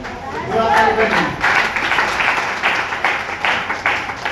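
Audience applause for Doctor Sanjan at a motivational business gathering, steady broadband clapping from a crowd sustained over several seconds with a brief voice near the start.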